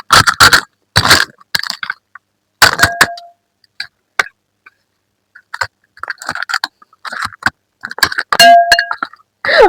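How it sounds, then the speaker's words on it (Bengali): Sharp metal spoon clinks while fuchka is eaten in a speed-eating challenge, coming in loud irregular bursts separated by short silences, with faint mouth noises in between. "মেন কথা হলো চামচ দিয়ে ফুচকা খেতে হবে, হাত লাগানো যাবে না"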